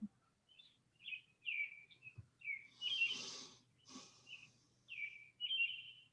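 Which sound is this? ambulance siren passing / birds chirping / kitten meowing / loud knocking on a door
birds chirping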